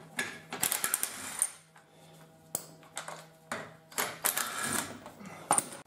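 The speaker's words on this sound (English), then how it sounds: "take all the nuts off." Wheel nuts are removed from a taxi wheel by hand, with scattered metallic clinks, ratcheting clicks and the rattle of loose nuts, heard close and fairly quiet with pauses between bursts.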